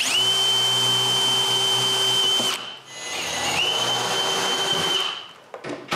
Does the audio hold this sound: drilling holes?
yes